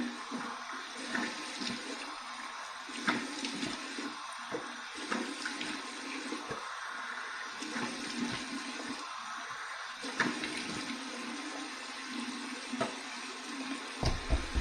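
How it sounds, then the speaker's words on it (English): Cold water runs from a bathroom tap as a man rinses his face after a shave, a continuous gushing stream broken by splashes and hand movements, close and fairly quiet throughout. "So here's my final cold water rinse to get the slickness off."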